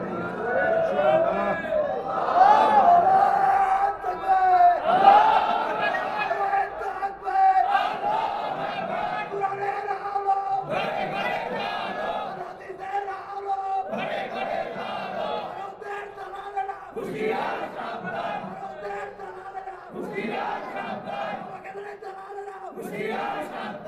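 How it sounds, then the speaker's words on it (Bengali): A large crowd at a Bangla waz gathering chants a religious slogan to Allah in loud, rhythmic call-and-response bursts, a leader's voice alternating with massed shouting repeated about eight times. "হাত উঁচু করে একটু আল্লাহর স্লোগান দিয়ে দেন।"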